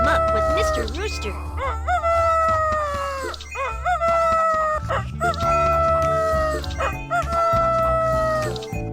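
A rooster crows repeatedly, loud and close, with several long rising-and-falling calls in a row and other barnyard noise underneath.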